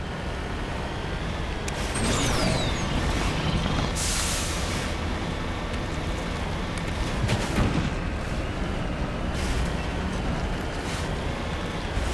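Heavy tank cannon fire and rumbling combat noise against Geth in the Mass Effect game, dense and continuous with sharp blasts and vehicle drone throughout, no voices.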